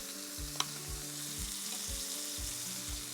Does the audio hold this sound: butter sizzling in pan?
yes